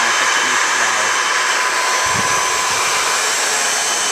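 A steady, loud Leeson permanent magnet DC electric motor whir at about 4,000 RPM with a fan-like broadband hiss from its rear cooling fan, running continuously at constant speed with a brief low thump midway.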